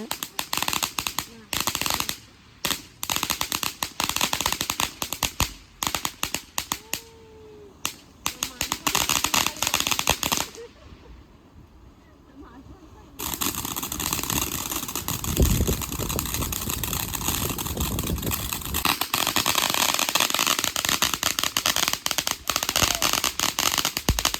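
Diwali firecrackers go off outdoors in China in long rapid crackling strings, dense and loud, with a brief lull midway before another sustained burst; voices are faintly present underneath.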